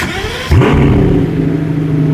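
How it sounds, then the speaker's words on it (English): A 6-litre twin-turbo V12 engine of a Pagani Utopia parked on a London street barks into a sharp rev, then settles into a steady, deep rumbling idle close by. "gives us its 6-litre twin-turbo V12 soundtrack"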